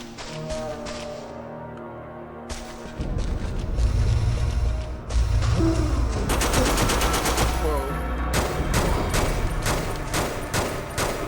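Pistol gunfire in the horror game Forbidden Siren 2, a run of sharp loud cracking shots in quick succession over a rumbling game backdrop, with a voice speaking at moments.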